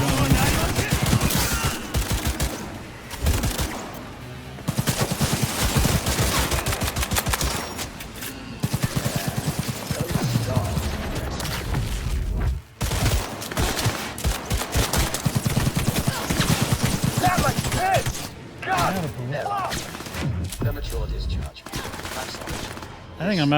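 Smart weapons in Cyberpunk 2077 fire in rapid, dense bursts of gunshots that run almost continuously, loud and close, with a few short pauses and a voice talking over parts of the action.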